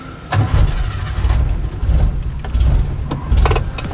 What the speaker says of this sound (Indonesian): sambil kita coba nyalain mesinnya